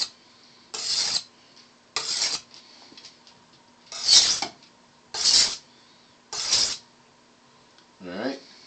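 A knife is drawn across a medium-grade sharpening stone in six separate strokes, each a short, close rasping scrape with quiet pauses between, while someone speaks softly in the gaps.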